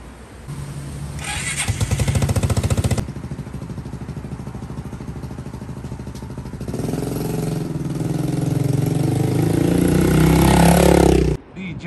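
A small underbone motorcycle is started by the river and idles, with a rough buzzing chug that cuts out and then returns as a steady close idle rising in revs, heard under a speaking voice.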